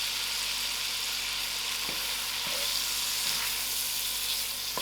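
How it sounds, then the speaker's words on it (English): Brinjal fries in a pot with a dense, steady hiss of oil, and occasional light knocks from a stirring spoon come through, no one speaking. "a good stir and allow the brinjal to fry out"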